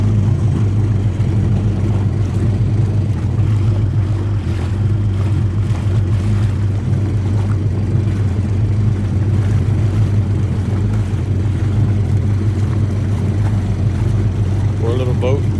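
A constant motor roar with rushing water runs throughout, the engine of a 2000 Bombardier Sea-Doo GTX jet ski close by, with a voice talking over it.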